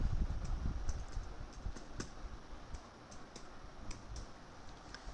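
Fingers type code for a Django web project on a computer keyboard, a run of quick, light key clicks in an irregular rhythm, close but fairly quiet.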